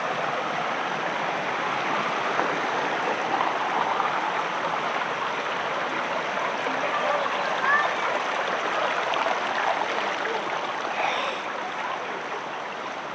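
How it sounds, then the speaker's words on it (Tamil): Steady rushing of mountain stream water on a trek flowing continuously, broadband and fairly loud, with no pauses or voices over it. "ஏகப்பட்ட தண்ணி ஓடுது எல்லா பக்கமும்"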